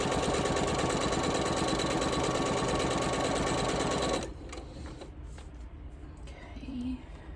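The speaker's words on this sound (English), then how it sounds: "Stitch at 1/4 of an inch seam allowance" Sewing machine running steadily and loudly while stitching quilt fabric at a quarter-inch seam, a fast continuous mechanical chatter that stops abruptly partway, leaving quiet room tone with light handling noises.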